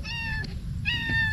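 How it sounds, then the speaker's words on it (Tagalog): A stray cat in a calamansi orchard meows twice, two clear, close tonal cries separated by a short pause, with low outdoor rumble underneath. "May pusa pong naligaw oh."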